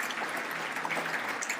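Audience at a dinner speech applauds with dense, sustained clapping, fairly even and moderately loud, with no voices heard.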